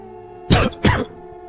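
Two quick, harsh coughs from a woman, close by, separated by a short pause, with near silence around them.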